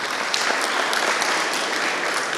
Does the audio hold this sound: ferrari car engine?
no